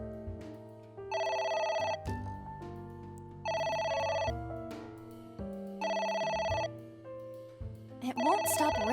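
A telephone rings repeatedly inside the video game AI: The Somnium Files on Xbox One, sounding as three loud, evenly spaced electronic bell bursts over a low musical backdrop, with no talking over it.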